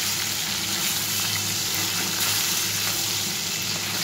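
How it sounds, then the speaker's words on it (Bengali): Hilsa fish pieces frying in hot oil in a home kitchen, a steady, dense sizzle and crackle holding even and close throughout with no voices over it. "যে কটা মাছ আছে আমি এগুলো একটু ভেজে উলট পালট করে তুলে নেব।"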